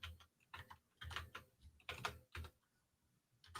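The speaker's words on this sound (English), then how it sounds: "Typing is hard." Computer keyboard typing at a terminal comes in several quick clattering bursts separated by short pauses, close and fairly quiet, with no voices.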